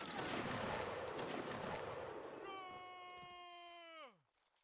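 Dense gunfire and battle clamor from the Napoleonic Wars mod of Mount and Blade Warband, loud and continuous for over two seconds, then giving way to a sustained rising-and-falling tonal horn or bugle-like note that cuts off abruptly.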